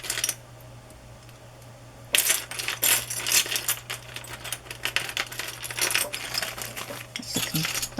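Small plastic coin charms handled and tumbling together, a burst of light clicking and clattering that begins after two seconds and continues in quick irregular taps, close and fairly loud.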